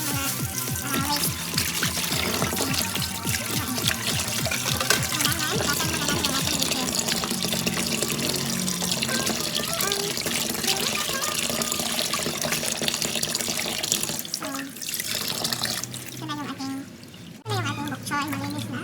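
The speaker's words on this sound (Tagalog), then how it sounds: "hugasan natin ang ating lemongrass" Tap water runs steadily over lemongrass being washed in a sink for a vegetable curry, a continuous rushing splash that lasts throughout, with a voice talking over it.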